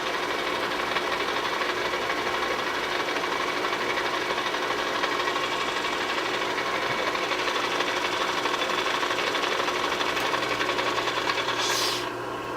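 A Bridgeport milling machine runs steadily in back gear with a constant, even mechanical whir and hum, close and unchanging throughout.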